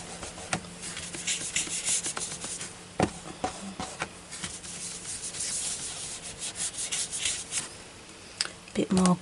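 A crayon rubs onto a palette board, giving close, dry scratchy strokes in uneven bursts, some short and sharp, others drawn out, with no talk over them.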